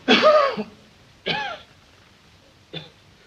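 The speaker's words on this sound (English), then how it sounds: "Suppose you wait till he quits coughing." A man in an old Western setting gives three harsh, throaty coughs close by, a long first burst followed by two shorter ones with pauses between.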